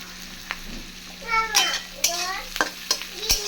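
Green chillies fry in a pan with a soft hiss, broken by a few sharp clinks and scrapes of stirring, along with short high, wavering squeaky tones.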